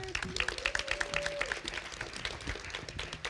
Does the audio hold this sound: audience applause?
yes